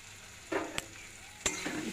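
Crushed garlic and cumin paste going into a hot pan, a soft sizzle under two sharp spoon or pan knocks, brief and close.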